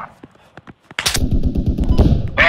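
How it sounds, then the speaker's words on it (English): Gunfire crackles in a shooter video game on a mosque rooftop, sparse single shots at first, then a dense burst of rapid automatic fire up close that swells again at the end. "Oh, I'm getting shot at."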